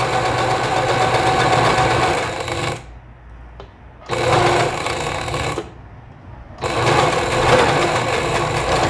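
Close, steady whir of a sewing machine stitching the lining of a circle skirt to its waistband, running in three bursts with quiet gaps between them, no voices.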